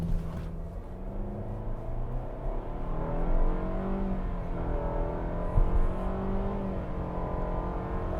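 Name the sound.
Mitsubishi Outlander accelerating from launch with CVT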